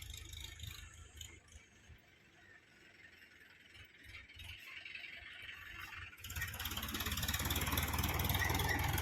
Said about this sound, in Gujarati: આ જાય છે ટ્રેક્ટર